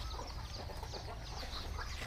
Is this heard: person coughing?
no